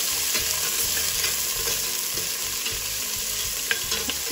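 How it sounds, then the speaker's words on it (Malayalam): Onion and okra with curry leaves fry in a hot pan: a loud, continuous sizzle close up, with steady scraping and stirring throughout and no talk. "കറിവേപ്പിലയും ചേർത്ത് കഴിഞ്ഞ് നമ്മൾ സവാളയും വെണ്ടയ്ക്കയും ചേർത്തിട്ട് ആദ്യം ഒന്ന് വഴറ്റും."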